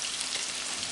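Onions sizzling steadily in a frying pan, left to fry until golden and crispy for a steakhouse burger; a dense, even hiss close up, with no talk.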